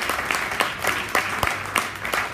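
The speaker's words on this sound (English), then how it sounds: "Can we give Marcus a round of applause for writing the genre that he writes in?" Audience applause at a book launch, a steady wash of many hands clapping with a few sharper individual claps standing out, fairly close and continuous throughout.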